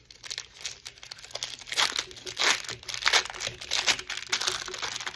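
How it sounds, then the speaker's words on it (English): Close, continuous crinkling of plastic packaging as scissors snip and tear it open, steady and busy throughout with no talking. "I'm just gonna use a pair of scissors to open that"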